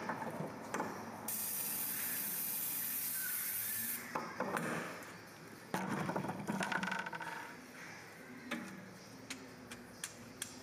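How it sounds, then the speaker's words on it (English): Cleaning the rear brake caliper piston on a 2002-2004 Honda CR-V: close scrubbing and rubbing with hissy bursts like a spray, broken by short pauses and a few light clicks. "We'll go ahead and clean the brake caliper piston a little bit"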